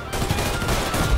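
Dense automatic gunfire in the video game Mafia III, a loud, continuous rattle of overlapping shots filling a short burst of just over a second.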